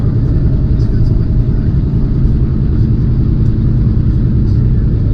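A truck hauling a load of water strains under power, its engine giving a loud, steady low rumble and drone inside the cab that holds evenly throughout without revving up.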